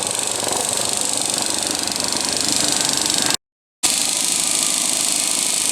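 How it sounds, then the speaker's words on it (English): A pump draws fuel from the gas tank of a 1959 Chrysler 300E, a loud, steady mechanical drone with a brief cutout near the end before it resumes, no voices. "So now we're pumping the last of the fuel out."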